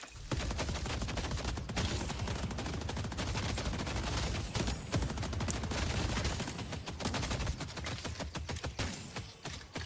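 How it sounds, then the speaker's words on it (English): Automated turret in the Deadlock video game fires rapid continuous bursts of gunfire for about ten seconds, dense and steady with brief gaps, under game effects. "Setting up a turret."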